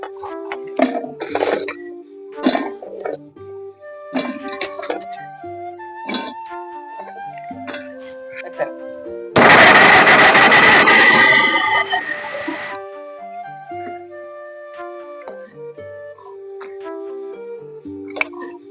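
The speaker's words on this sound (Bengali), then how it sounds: "এগুলা ভেজে নিয়েছি এবারে মিক্সিতে দিয়ে দেবো" A mixer grinder whirs loudly for about three seconds, grinding a fried gram flour mixture, cutting in and out between quieter kitchen clinks and background music.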